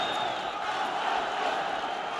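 An arena crowd at a title fight in the Basket Hall Arena roars continuously, a dense, loud wash of cheering and shouting that carries without a break throughout.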